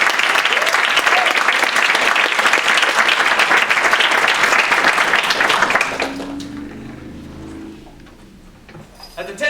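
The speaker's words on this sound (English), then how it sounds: "So let's give Colin a round of applause." Strong audience applause for Colin rises as a dense, loud burst of clapping, then cuts off after about six seconds, leaving a quieter tail with low voices and room murmur.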